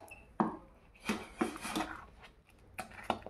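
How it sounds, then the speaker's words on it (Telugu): A spoon scrapes and clinks against a pot while stirring bottle gourd (sorakaya) payasam with a pinch of rock salt in a village kitchen, giving several close, irregular strokes and taps. "ఇదిగోండి ఇంత కొంచెం మొత్తం యాడ్ చేసి ఇలా మిక్స్ చేద్దాం"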